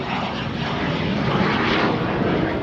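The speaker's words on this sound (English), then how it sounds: "it's a flat 6. I mean, that's an aviation piston engine" A light aircraft powered by a Lycoming flat-six aviation piston engine drones steadily and loudly at an aviation festival, a continuous broadband roar that holds constant throughout with no talk over it.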